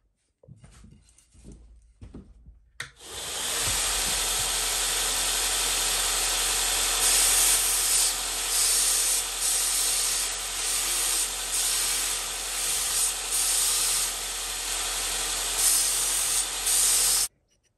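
Axe blade being sharpened before tree chopping, a steady continuous abrasive rasping and hissing that runs loud and unbroken for about fifteen seconds after a few brief scrapes, with no talking.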